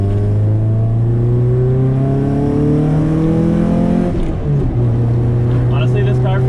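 An engine-swapped Honda Civic cruises down back roads, its engine holding a steady droning hum with a brief shift around the middle before the pitch settles again, while people talk in the cabin over the drone.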